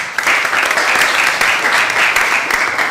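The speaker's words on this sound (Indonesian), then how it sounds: "Ya, tepuk tangan." A classroom of students applauds, a close, loud burst of many hands clapping that keeps up steadily throughout, with no talking over it.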